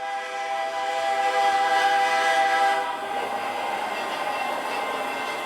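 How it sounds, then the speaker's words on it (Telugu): An AI-generated approaching train rumbles steadily with sustained horn-like tones, loud and continuous, swelling and then shifting slightly as it draws near, with no voices. "నెక్స్ట్ ఒక ట్రైన్ వస్తుంది,"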